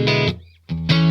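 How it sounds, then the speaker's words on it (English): Stratocaster electric guitar through a JTM45 amplifier, two short driven chords with a brief gap between them, loud and close with no talking. "So let's start with the JTM45 and the Strat."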